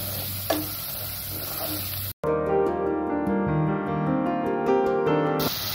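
Chopped green chilli frying with masala in a pan for mutton malai kabab, a steady close sizzle with stirring scrapes, briefly cutting out midway and then continuing evenly.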